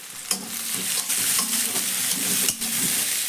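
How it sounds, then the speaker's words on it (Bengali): Chopped medium-sized onion hits hot mustard oil with a steady, close sizzle, while a spoon stirs and scrapes through it in quick, repeated strokes. "এবার তেলের মধ্যে দিয়ে দিচ্ছি একটা মিডিয়াম সাইজের কুচনো পেঁয়াজ।"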